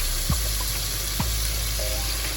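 Filet mignon frying in avocado oil butter in a pan over mid-low heat, a steady close sizzle with a couple of brief clinks from utensils.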